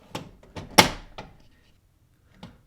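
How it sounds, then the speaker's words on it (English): A small plastic ink cartridge access door on an HP Deskjet Plus 4100 printer is pushed shut, giving a few soft close-up knocks with one firmer thunk in the middle, then a faint tap after a pause. "you just have to close this small door here"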